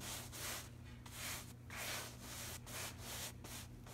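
A paintbrush strokes back and forth across water-sprayed upholstery fabric in a steady rhythm of soft, scratchy swishes, close up, with a low hum underneath.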